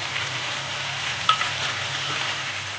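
Canned tuna sizzling in its own oil in a pan for an omelette, a soft, even, close frying hiss with one faint clink partway through.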